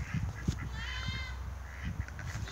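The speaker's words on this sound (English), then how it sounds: "See? There's my ducks." Ducks quack and honk repeatedly in a noisy outdoor setting, a cluster of birds calling over steady background noise.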